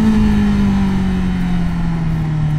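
Honda CB650R E-Clutch motorcycle engine held at a steady, loud drone with a slowly falling pitch, a continuous mid-range hum with no voices over it.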